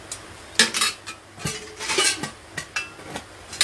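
Stainless steel idli steamer plates clink and clatter as they are handled, giving a series of sharp metallic knocks and scrapes at close range with no talking.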